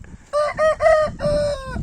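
A rooster crows once nearby, a loud drawn-out call with a choppy start and a falling tail, against a quiet farmyard background.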